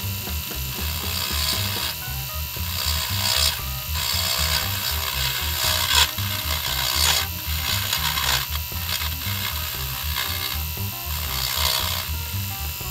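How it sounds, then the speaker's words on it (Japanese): A handheld rotary tool grinds louvers into a Hakosuka Skyline GT-R two-door scale car model, making a steady, close buzzing whine with a rattling, gear-like texture that shifts slightly in intensity, with no talking. "このリューターで仕上げて、あとはあのペーパーとかでね"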